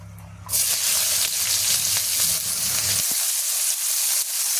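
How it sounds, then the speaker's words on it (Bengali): Chopped onion hits hot oil in a pan with a sudden loud hiss, then keeps sizzling in a steady, bright fry close up. "এবার আমি পেঁয়াজ কুচিটা দিয়ে দেবো।"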